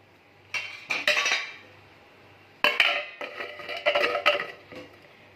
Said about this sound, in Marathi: आपण झाकण देऊन ठेवूया